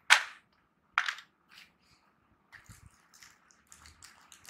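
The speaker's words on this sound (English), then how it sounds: "I'm dropping all the matches." Wooden matchsticks tipped out of a cardboard matchbox: two sharp clattering bursts at the start, then a series of lighter scattered ticks and taps as more matches fall, close and alone with no talk.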